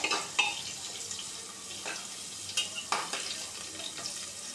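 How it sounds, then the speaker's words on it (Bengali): Potatoes coated in turmeric and salt fry in hot oil with a soft, fairly quiet sizzle. Intermittent stirring knocks and scrapes of a utensil against the pan punctuate it. "কিছুক্ষণের মধ্যেই তেলটা গরম হয়ে আলুগুলো ভাজতে শুরু হয়েছে"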